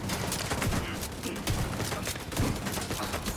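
Dense, continuous video game gunfire, including shotgun blasts, crackling in rapid overlapping bursts close up and loud, with a voice faintly present beneath the shooting.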